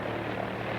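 Steady, close drone of an early propeller-driven airliner's engines, continuous and even in loudness as the plane sets off after refueling on a mail and express run.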